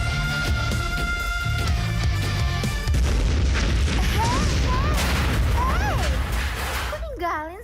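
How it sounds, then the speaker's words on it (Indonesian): A staged explosion on a film set erupts as a loud, sustained boom that cuts in over a musical backing. Voices and squealing sounds follow near the end. "Take 2, ledakan yang kencang ya,"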